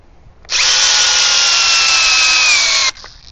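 A Metabo HPT DV36DC cordless drill drives a 1/2 by 6 inch lag screw, a loud steady high whine running for about two and a half seconds with pitch slowly dropping under load before cutting off abruptly.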